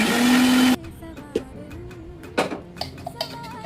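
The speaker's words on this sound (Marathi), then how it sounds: "1 तास भिजलेली डाळ मिक्सरमध्ये वाटून घ्यायची आहे." A loud mixer grinder grinds lentils soaked for an hour, runs briefly and then cuts off, leaving a few clinks and handling knocks in the quiet afterward.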